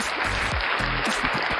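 Crowd applause rings out during a live-streamed Saturday morning comedy, music and chat show, a steady dense wash of clapping with low tones humming beneath it.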